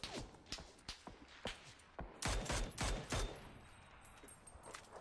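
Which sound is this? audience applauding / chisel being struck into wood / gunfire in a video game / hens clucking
gunfire in a video game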